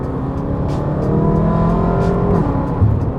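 BMW M5 F10 engine revs hard under acceleration, a close, loud rising growl with climbing tones that cut off briefly near the end before picking up again.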